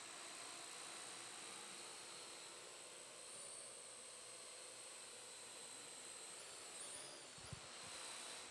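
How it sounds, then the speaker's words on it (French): A small drone steered by tilting an iPad, a steady high whirring buzz of its propellers that holds constant and fairly faint throughout, with a brief low thump near the end. "pour piloter ce drone-là, j'utilise l'inclinaison de l'iPad"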